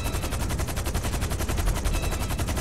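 Sustained rapid automatic gunfire from the video game GTA V rattles continuously at a fast, even rhythm, loud and dense throughout with no talk.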